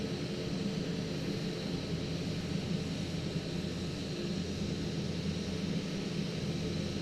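A steady airplane engine drone on approach with the power cut and flaps down, a constant hum with broadband wind rush, fairly quiet and unchanging throughout, with no talk.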